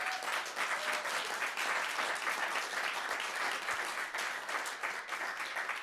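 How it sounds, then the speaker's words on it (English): An audience at a nonprofit center's annual meeting gives a sustained round of applause, many hands clapping in a dense, even roar for several seconds without speech. "Can we just have a round of applause for them?"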